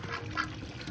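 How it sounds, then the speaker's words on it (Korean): Ducks quack at a cafe pond as they are being fed. Two short, nasal quacks sound close, with faint outdoor ambience beneath. "저희 오리 밥 주러 가겠습니다"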